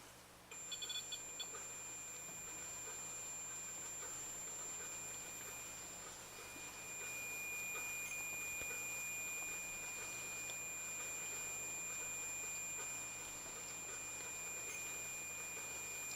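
A steady high-pitched electronic tone from a Mel Meter drones continuously, with a second beep tone layered in, over a low hum and faint background noise, in a bedroom at night.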